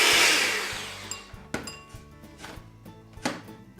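An electric mixer blends cheesecake batter for baked cheesecake bites, a loud close whir at the start that fades out, then light clinks against the bowl over a soft steady background tone.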